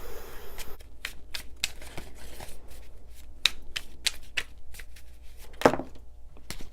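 Tarot cards are shuffled by hand in a run of crisp, irregular riffles and flicks, close and fairly loud, with no talking.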